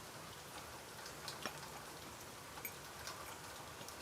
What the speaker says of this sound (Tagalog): Maaraw, pero umuulan.